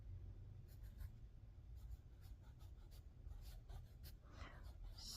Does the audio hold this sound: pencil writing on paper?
yes